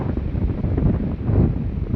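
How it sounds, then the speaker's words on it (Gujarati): Strong wind on a farm roars and buffets the microphone in a continuous low rumble, gusting slightly louder toward the end. "અમારે ત્યાં બહુ જ પવન આવે છે"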